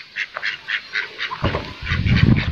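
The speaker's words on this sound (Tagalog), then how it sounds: "Ang ganda ng peking duck po, oh." Pekin ducks on a farm give a rapid series of loud, nasal honking quacks in a steady rhythm, close by, with a louder, rougher burst of calls toward the end.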